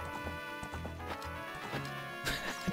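A horse gallops in The Legend of Zelda: Ocarina of Time Master Quest, its hooves clip-clopping in a steady rhythm alongside a brief whinny, all at moderate volume with no voices.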